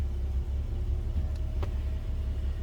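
A 1950 Chrysler Windsor sedan engine idling as the clutch is let out in reverse, a steady low rumble with a faint whine and a brief click, close by.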